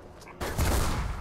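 Gunfire in the video game Mirror's Edge erupts suddenly after a brief quiet lead-in, a loud, dense burst of shots that fills the rest of the moment.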